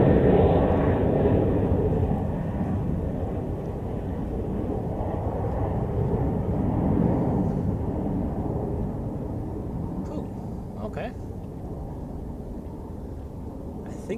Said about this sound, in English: I think that was the Chicago flight because I saw it on the tarmac earlier, waiting